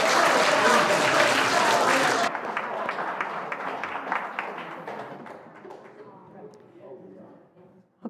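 Church congregation at Faith UCC in Dunedin applauds the musicians, a loud burst of clapping that abruptly drops to a thinner, fading patter of claps trailing off into near silence.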